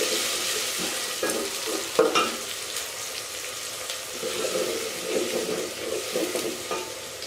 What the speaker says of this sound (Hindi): अब हम इसको इतना फ्राई कर लेंगे कि टमाटर को हम अच्छे से गला लें।